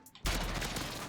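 Rapid automatic fire from an M4A1 rifle in Call of Duty Modern Warfare, a sudden loud, dense burst that keeps going at a steady level after a short quiet lead-in.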